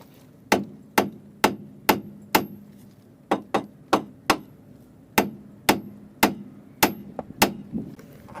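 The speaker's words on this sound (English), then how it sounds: "we can pop this out of here with a hammer" Hammer blows strike a tie rod end on the hub of a Vauxhall Combo / Corsa C, sixteen or so sharp metallic taps in a steady rhythm, close and loud with brief ringing after each hit.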